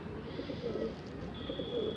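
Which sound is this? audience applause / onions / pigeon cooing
pigeon cooing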